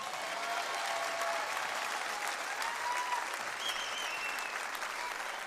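Steady, dense applause from a concert audience at the Olympia in Paris for a singer, continuous and full throughout with faint whistles rising above the clapping.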